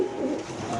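Female racing pigeons coo in a loft, a brief low throaty murmur heard close up.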